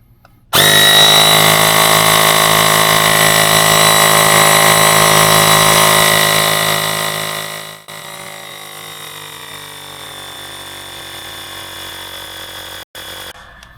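A Gooloo GT160 portable rechargeable tire inflator runs close and loud while pumping up a tire, a steady buzzing motor drone that holds for about seven seconds before easing to a quieter, lower hum.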